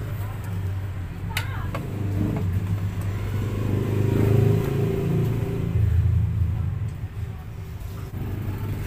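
A Honda Wave W100 motorcycle with a worn connecting rod, block, magneto kit and roller chain idles and revs with a loud rattling rumble, while someone talks over the engine noise.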